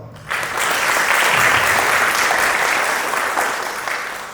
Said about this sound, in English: Let us welcome him and all the dignitaries with a big round of applause.